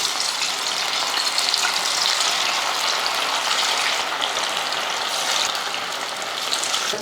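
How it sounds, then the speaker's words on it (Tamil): Steady, bright sizzling of fish frying in plenty of hot oil, a continuous crackling hiss up close with no talking. "நான் வந்து கொஞ்சம் அதிகமாக எண்ணெய் ஊற்றி தான் பொரிக்கிறேன்"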